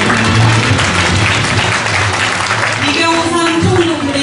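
Applause from the audience at a university alumni association welcome party for new students, held at an army hall, rising under continuous talk and background music over about four seconds.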